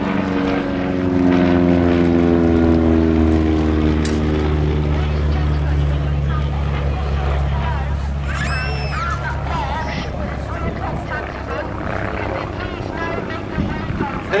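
An SF.260 four-seat propeller aeroplane flying at the East Kirkby airshow, a loud continuous engine drone with slowly shifting pitch as it passes, a commentator speaking over it.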